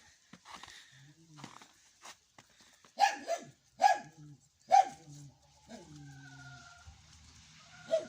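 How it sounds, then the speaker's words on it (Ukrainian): Jack the dog barks in a few sharp, loud bursts at a hen that has come close, with quieter yaps and soft farmyard sounds between them. "він щось гавка на неї, щоб відійшло"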